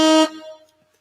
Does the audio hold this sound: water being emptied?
no